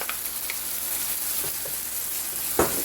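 Curd drops into a pan of sizzling tomatoes and onions, giving a steady hiss with a brief wet splat near the end, close and without voices.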